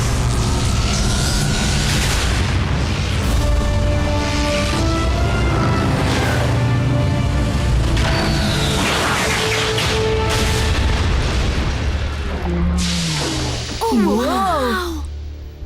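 Animated Transformers: Prime action scene with a cartoon explosion: booming, rumbling blasts and dense sci-fi effects sound throughout, ending in warbling electronic tones.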